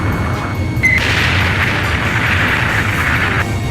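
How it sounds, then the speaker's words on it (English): A missile striking its target in the jet combat game Ace Combat 5: The Unsung War, a steady loud rumbling blast with a brief tone near the start, sustained for several seconds over a low roar. "Missile hit!"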